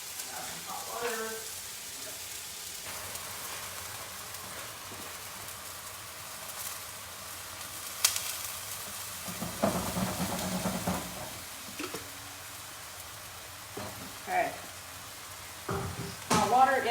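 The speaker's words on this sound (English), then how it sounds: "So, add some hot water." Hot water poured into a pan while making the sauce for Hong Kong style pan-fried noodles, giving a soft hiss and sizzle with stirring clatter, brief louder bursts near the end, and a short spoken word.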